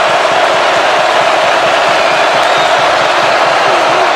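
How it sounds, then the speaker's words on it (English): A packed stadium crowd at a college football game, Georgia against Kentucky in 2021, roars for the defense in one loud, continuous wash of cheering and yelling with no break. "Again, the crowd is lit up for this defense."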